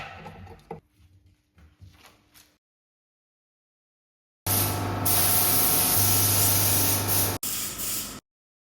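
A spray gun putting a first coat of paint on a Mustang Mach-E GT car bumper in a paint booth, a loud continuous close hiss lasting a few seconds, then a shorter second burst after quiet handling sounds.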